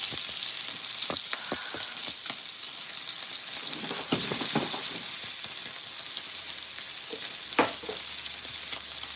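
Butter sizzles on a chuck steak frying in a pan, a steady loud crackling hiss broken by occasional sharp spits and pops.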